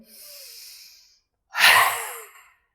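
A deep breath in during a yoga session, close and intimate: a soft airy inhale, a brief pause, then a stronger rushing breath that fades out.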